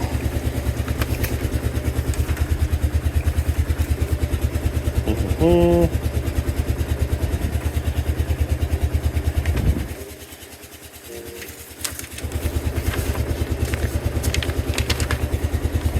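A 2005 Kawasaki KLR 650 motorcycle engine idles steadily with a fast, even thumping pulse and mechanical clatter, dipping briefly midway before settling back, while a person talks over it.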